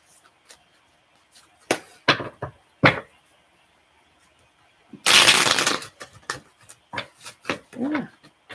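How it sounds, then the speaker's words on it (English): Cards are riffled in quick papery bursts, one long loud flutter in the middle among scattered softer taps and shuffles. "this deck doesn't want to shuffle very easily"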